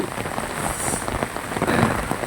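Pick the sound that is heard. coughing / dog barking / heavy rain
heavy rain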